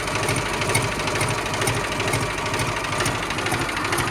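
A Mahindra tractor engine runs with a steady, rough chugging close by, holding an even loud drone throughout with no talk over it.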